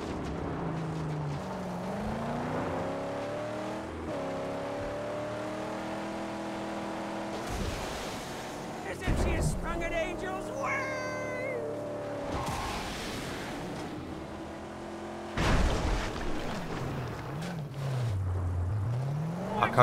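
A car engine revs in the Mad Max video game, its tonal whine sweeping up and down in pitch while driving, loud and continuous with brief bursts of crashes and thuds along the way.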